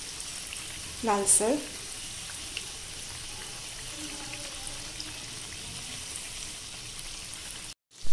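Urad dal bhaji fry in hot oil with a steady, soft sizzle. Someone speaks briefly near the start, and the frying carries on alone throughout.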